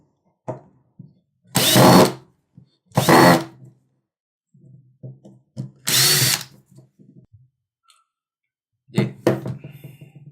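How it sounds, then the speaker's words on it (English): A Makita HP331D cordless hammer driver drill driving a black screw gives three short bursts of high whirring, each about a second long, close by. Sparse clicks and handling noises fall between the bursts, and a final stuttering run comes at the end. "It's easy to drill with this black screw."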